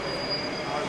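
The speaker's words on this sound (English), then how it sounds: "I think our metro is coming" An RER metro train arriving in Paris gives off a loud, steady rumble with a thin, high wheel squeal running through it, close by and alone.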